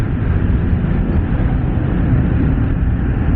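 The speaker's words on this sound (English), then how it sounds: "this boxer engine makes really, I mean, it's smooth." A BMW R 1250 RT motorcycle's boxer engine runs at a steady, smooth drone with wind rush, loud and continuous, with no speech.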